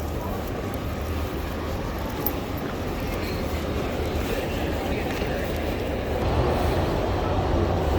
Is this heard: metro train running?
yes